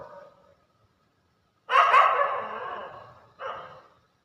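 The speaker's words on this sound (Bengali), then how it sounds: "ওই যে কুকুর ঘেউ ঘেউ করতেছে," Dogs bark at jackals in a chase: a faint bark at the start, then after a pause a louder, drawn-out bark and a shorter one, all at moderate distance with no talking.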